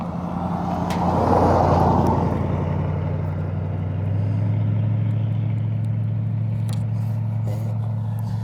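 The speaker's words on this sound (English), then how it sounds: "There's so many cars." Steady traffic rumbles past on a busy road, one vehicle swelling louder close by before a continuous low drone of passing cars settles in, with no talking.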